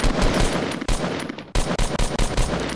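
Rapid bursts of gunfire in the Fortnite video game, loud and close, with dense repeated shots broken by a few short pauses and no talking.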